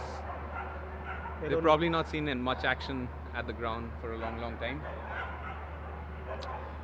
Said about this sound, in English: you can hear a bit of barking in the background